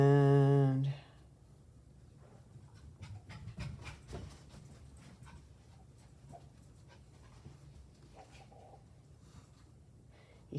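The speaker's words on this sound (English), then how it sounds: "you can probably hear a puppy running around up here" A young puppy named Sophie, excited during a play date with another dog, pants and patters around nearby, with quick breathy panting and scuffling continuing steadily at moderate volume after a brief loud tone at the start.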